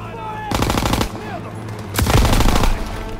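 Machine gun fire in Call of Duty: WWII, two loud sustained bursts of rapid automatic shots, each about half a second long, over a dense battlefield din.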